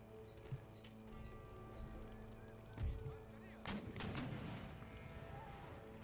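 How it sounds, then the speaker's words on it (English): Canister shot artillery in Empire Total War battle: a couple of deep booming cannon reports over steady low battlefield din, with a distant crackle of musketry around them. "Keep shooting canister shot at the breach"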